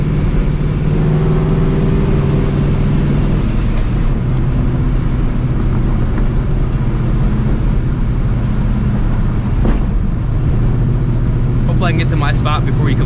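A straight-piped, supercharged New Edge Mustang GT heard from inside the car: a loud, constant low exhaust drone that shifts pitch slightly as the throttle changes, with a brief rise near the end.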